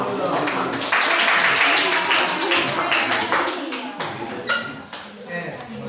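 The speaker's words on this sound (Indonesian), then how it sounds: "Tepuk tangan dulu." Class applause in a small classroom during a practice teaching lesson, a brief patter of claps from a group that trails off, with voices chatting over it.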